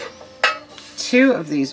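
Metal loaf pans with lift-out inserts clank and scrape as they are handled close up, with a sharp clatter followed by several ringing metallic knocks in quick succession.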